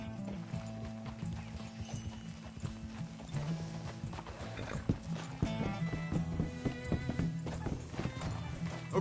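Horse hooves clip-clop in a steady walking rhythm in the video game Red Dead Redemption 2, accompanied by occasional whinnies, creaking tack and background music.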